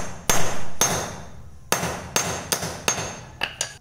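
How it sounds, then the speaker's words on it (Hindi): A hammer strikes a motorcycle chain lock link, giving about eight sharp metallic blows in an uneven rhythm, loud and close, with a short ring after each hit and the last two coming quickly. "तो इसके लिए हथौड़ी चाहिए होगा एंड एक दो नट चाहिए होगा इसी साइज़ का"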